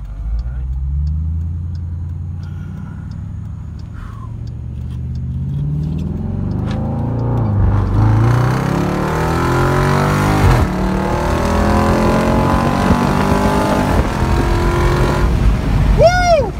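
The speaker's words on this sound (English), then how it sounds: "First time in the SRT 392" A Dodge Durango SRT 392 engine rumbles deep and then climbs as it accelerates hard from inside the cabin, its pitch rising steadily with loud exhaust roar and a brief high whoop near the end.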